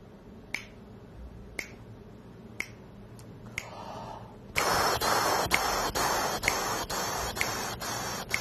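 A metronome ticks at an even, moderate pace during trumpet tonguing practice. Its crisp clicks are first heard almost alone, then continue under a loud, hissy, breathy sound.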